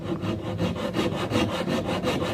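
A rat tail file rasps string grooves into a thin hickory board bow in quick, back-and-forth strokes, a close, gritty scraping in an even rhythm.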